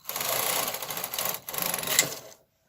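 A White Tiger knitting machine carriage is pushed across a row, giving a dense mechanical clatter for about two and a half seconds with a short pause midway, close and fairly loud, with no talk.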